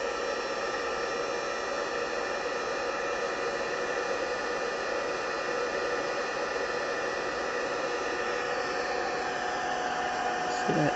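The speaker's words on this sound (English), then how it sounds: "I'll get my heat gun pushed on the whole way." A heat gun blows hot air onto scrap paper in a craft class, a steady, close, loud broadband whoosh that holds constant for the whole stretch, with a slight surge at the very end.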